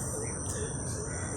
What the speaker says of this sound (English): please enjoy birds